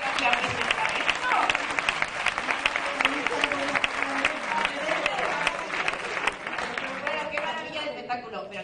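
An audience at a flamenco mass for human rights bursts into sustained applause, a dense crackle of many hands in a resonant space, with a voice speaking over it near the start before the clapping tapers toward the end.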